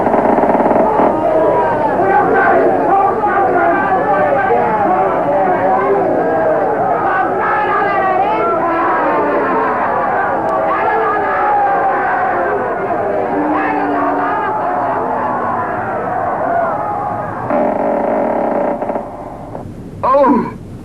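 Busy royal marketplace crowd murmuring steadily below an open window, a dense, continuous wash of many overlapping voices filling the scene before dropping away near the end.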